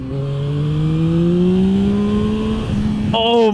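A 2021 Yamaha MT-09 SP motorcycle accelerates hard into a wheelie, its engine note climbing steadily and loudly through the revs before a quick shift near the end, heard close up under rushing wind.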